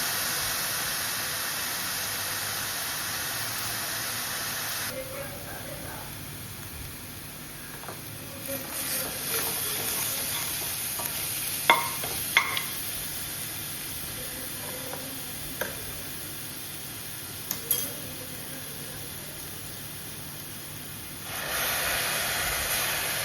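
Onion and ginger paste fries in a pan for a soya chunk curry, giving a steady, close hiss and sizzle with a few light scrapes and clicks of stirring. No voices.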